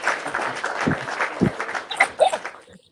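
Applause sound effect in a chatty show setting, a brief burst of crowd clapping that swells and fades over a few seconds, with some chuckling mixed in.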